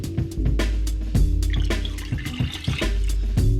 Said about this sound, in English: Because it's salty, we're gonna add some more water.